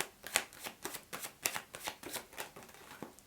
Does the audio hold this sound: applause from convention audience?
no